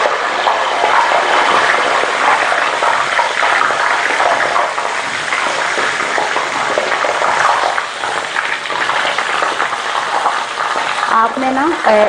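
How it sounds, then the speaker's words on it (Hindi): Potato chip slices frying in hot oil give a loud, steady, dense sizzle that holds for twelve seconds, with a voice briefly audible near the end. "अब हम इसको फ्राई करते हैं"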